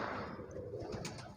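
Soft cooing from Banaras-Allahabad cross pigeons on a rooftop, heard as brief low, faint murmurs in a quiet outdoor setting with a sharper tick near the end.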